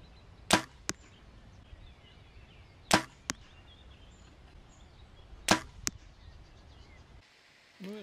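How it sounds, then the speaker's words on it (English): Three arrows shot from a bow into a target at 25 meters, each a sharp release snap followed a beat later by a crisp impact thud, spaced a few seconds apart in a quiet setting. "I now shot 3 arrows on target at 25 meters."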